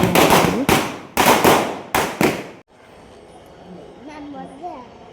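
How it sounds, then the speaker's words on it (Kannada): Firecrackers set off by a building's residents for a Karthika Monday celebration go off in four loud, sharp close bursts, followed by a quieter stretch with voices and faint tones. "ಪಟಾಕಿ ಹೊಡೆದು ಖುಷಿ ಪಟ್ವಿ"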